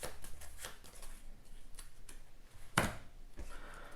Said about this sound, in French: je la remélange dans le deck